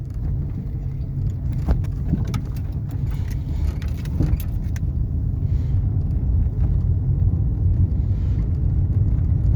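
A 2005 Daewoo Lanos SE T150 car engine idles with a steady low rumble, a few light clicks and jingles near the start.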